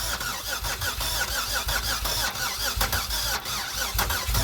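A heat-soaked Buick engine cranks over and over without catching, its starter giving a steady rhythmic churning, loud and close throughout.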